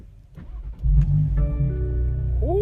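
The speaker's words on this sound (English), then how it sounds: "I'm about to be in big trouble for starting the car." Honda S2000 engine cranking, then firing up and settling into a steady idle, close and fairly loud.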